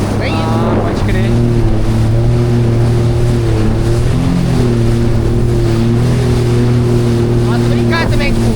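A jet ski engine drones loud and steady on the open sea off Itapema, Santa Catarina, with heavy wind buffeting the microphone throughout.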